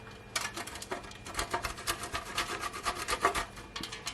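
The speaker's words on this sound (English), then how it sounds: "I'm gonna grate some of my Parmesan cheese" Parmesan cheese grated by hand for meatballs, a soft irregular series of scraping strokes, close but fairly quiet, with no talk.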